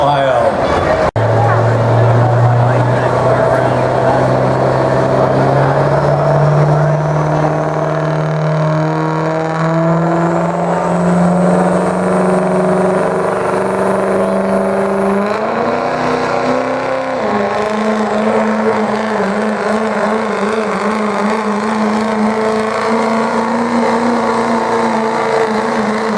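A diesel truck in the open diesel class pulls at the Big Butler Fair. It is a big machine out of Lisbon, Ohio, and its engine roars loudly with a pitch that climbs steadily and jumps higher near the end, while an announcer talks over it.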